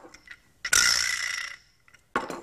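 A single sharp strike followed by a buzzing, rattling decay lasting under a second, then another brief hit.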